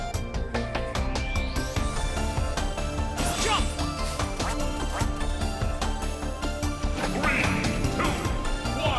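Ducks quack repeatedly on the Duck Hunt stage in Super Smash Bros. 4, buried in a loud, continuous mix of game music and fighting effects throughout.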